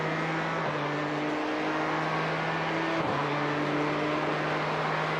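BMW and Ford race car engines in a racing video game at Imola, a loud steady engine drone holding a constant pitch with two brief dips where the note shifts, like gear changes.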